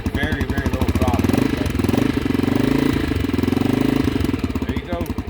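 The engine of a 1991 Honda XR250L motorcycle idles just after start-up on very low throttle and barely any choke. It gives a loud, steady, close thumping chug that holds a rapid even pulse throughout, with the idle rising slightly in the middle.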